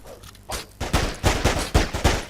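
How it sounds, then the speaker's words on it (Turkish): Video game gunfire in Of Guards & Thieves, a rapid string of sharp shots arriving in quick bursts with a slightly distant, echoing quality, and no voices over it. "Ya biri bana uzaktan vuruyor."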